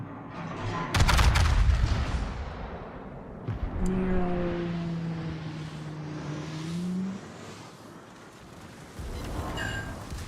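Heavy naval cannon fire from 18-inch battleship guns in World of Warships: a loud, deep blast with a long rumbling tail, then a second boom about three seconds later and droning engine tones under it.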